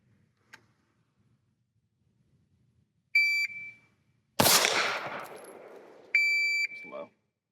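A single loud handgun shot fired at full extension on a shooting range, a sharp crack with a decaying tail, set between electronic shot-timer beeps before and after in otherwise quiet surroundings.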